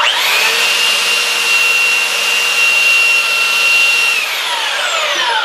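A steady, loud whirring of a belt sander running continuously, with a high abrasive hiss as a belt cleaner is pressed against the moving belt, winding down near the end.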